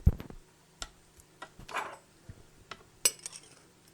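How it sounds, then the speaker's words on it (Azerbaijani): A spoon clinks and scrapes in a bowl as powdered sugar is stirred into homemade peanut paste, giving a few scattered taps and one sharp clink, close and quiet with no talking. "İndi bura mən 3 xörək qaşığı şəkər pudrası əlavə edirəm."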